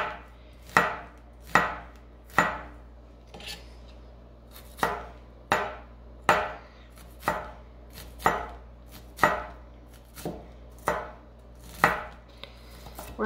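Knife chopping onion on a board, about sixteen sharp, evenly spaced chops close up, with a short pause partway, no voices.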